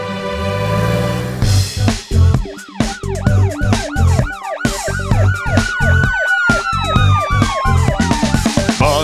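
A cartoon police car siren wails, rising and falling again and again, set against a bouncy, upbeat musical backing; the sweeps repeat steadily throughout.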